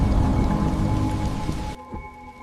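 Steady heavy rain pours in an animated horror story as a house stands soaked in the downpour, a loud dense hiss that drops to a softer, thinner patter near the end.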